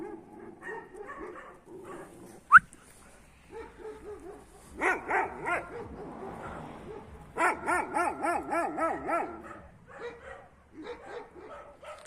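Dogs bark in bursts and whine and yip, with a sharp sudden crack and bouts of rapid excited barking amid scuffling.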